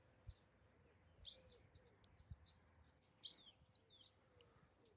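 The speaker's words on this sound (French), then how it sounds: "L'oiseau s'est perché sur une branche la plus basse d'un arbre." Small bird chirps ring out in a few short, bright bursts over a quiet background with faint low thumps and a soft hum, distant and gentle.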